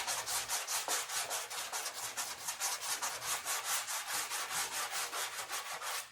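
Steady back-and-forth hand sanding of 2K epoxy primer on the body of a 1970 Dodge Dart Swinger, close and continuous, with fast regular strokes of rasping friction throughout and no talk.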